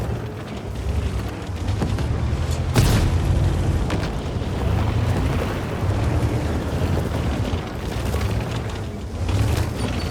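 Deep booming tank cannon shots in World of Tanks, one sharp blast standing out amid continuous rumbling engine and battle noise.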